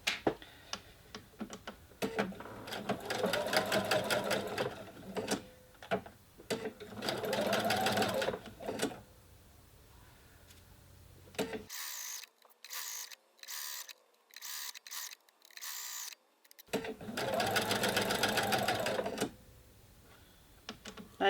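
A sewing machine stitches a continuous placket in several bursts of rapid needle chatter, separated by pauses with clicks and single slow stitches as the work is turned at a corner, close and clear.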